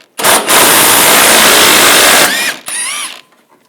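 A ratchet with a 15mm socket spins a bolt out of a bracket under the air intake splash shield on a 2014-2018 GMC Sierra, giving a loud close buzzing whir for about two seconds, then a shorter, quieter burst.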